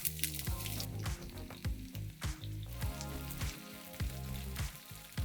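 Mustard seeds and diced onion fry in a pan with a busy sizzle broken by repeated pops and crackles, fairly close and steady throughout.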